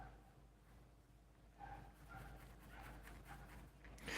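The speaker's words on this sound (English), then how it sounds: "Shut that goddamn dog up." A dog pants softly and gives a few quiet whimpers, breathing in an uneven rhythm that grows a little louder toward the end.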